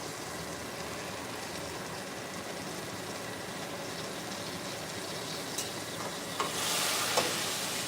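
Meat searing in a hot pan gives a steady, dense sizzle that runs unbroken throughout, with a few faint clicks and a brief brighter hiss near the end.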